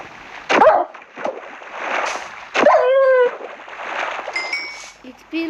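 A dog in a video game barks and whimpers amid splashing water, short yelps and splashes spread across the clip over game background sounds, with someone speaking at times.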